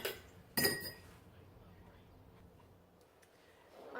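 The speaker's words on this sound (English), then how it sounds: "So I'm just going to give mine a quick stir." A spoon clinks against a pot while lamb stew is stirred, with a sharp metallic knock near the start and then quieter scraping and shuffling, heard up close with no talking.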